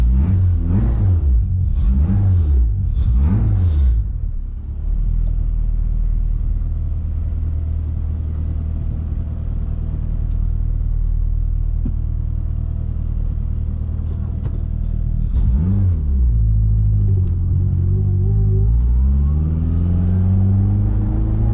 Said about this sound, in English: take the car for its test drive